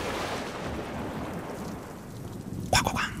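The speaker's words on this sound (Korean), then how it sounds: "그 천둥 번개 소리에 제가 너무 놀래가지고 잠에서 깼거든요" Thunder and rain: steady rainfall hissing throughout, then a sharp crack of thunder near the end with a brief rumbling tail, no talk over it.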